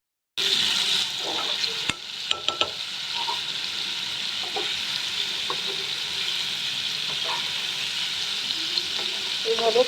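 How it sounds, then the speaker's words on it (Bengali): Paneer pieces sizzle steadily in hot oil as they are turned in a pan, with a dense continuous fry broken by occasional clinks and scrapes of a spatula, close and fairly loud. "পনিরগুলো সব দিয়ে আমি উল্টে পাল্টে ভেজে নেব"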